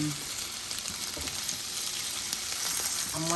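Food frying in a pan on a stovetop, a dense, continuous close sizzle with a faint voice underneath.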